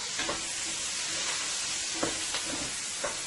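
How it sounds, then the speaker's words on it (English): Vegetables seasoned with bouillon fry in a pan with a steady, loud sizzle, broken by a few soft stirring knocks near the end. "I'm going to let this fry up nicely there."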